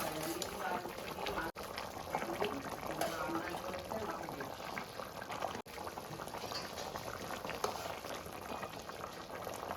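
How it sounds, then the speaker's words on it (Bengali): Fish goes into a boiling potato curry with an egg already in the gravy, a steady close bubbling and simmering that runs throughout the clip with two brief dropouts. "এবার আমি মাছগুলো দিয়ে দিচ্ছি।"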